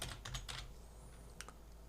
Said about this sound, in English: So let's press tab and type Advect